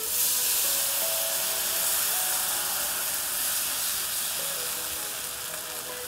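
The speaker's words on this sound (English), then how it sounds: "we're gonna deglaze with our white wine" White wine hitting a hot pan while deglazing for asparagus risotto, a loud, steady steam hiss and sizzle that holds for several seconds and only slightly eases toward the end, with no talking.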